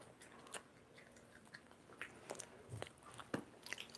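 Close, quiet bites and chewing on a convenience-store boneless chicken skewer, with sharp crunchy snaps and soft moist mouth sounds repeating irregularly in a hushed room, no talking.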